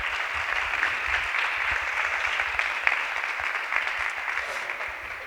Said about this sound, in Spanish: Yo creo que podemos darle un aplauso